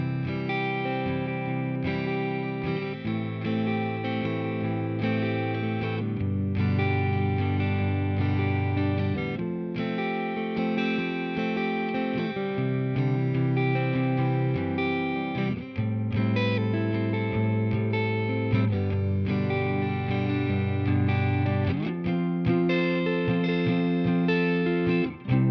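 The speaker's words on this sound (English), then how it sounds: "So we're going to just listen and hear what this guitar sounds like." Clean G&L ASAT Classic electric guitar on the neck pickup playing chords and melodic lines with a warm, rounded tone and a touch of amp reverb, sustained and continuous.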